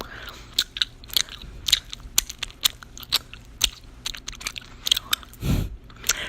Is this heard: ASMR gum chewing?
yes